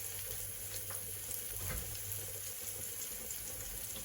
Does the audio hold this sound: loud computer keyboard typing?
no